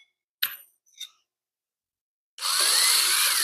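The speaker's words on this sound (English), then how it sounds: "Let's go ahead and pop these A-arms off." Tools working on the front end of a 1988 Ford Ranger to remove the A-arms: two sharp clicks, then a quiet gap, then a loud, sustained high-pitched whirring burst from a power tool.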